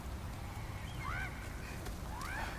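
Bird calls in the video game Demon's Souls, a few short rising chirps heard faintly over a steady low ambient rumble, with no talking.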